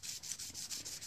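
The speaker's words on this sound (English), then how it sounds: "Clear off the copper oxide layer. So for that I need sandpaper," Sandpaper rubbed back and forth over a copper soldering tip to clear its oxide layer, a close, dry scratchy rasp in steady strokes, about five quick passes with brief gaps, no talking.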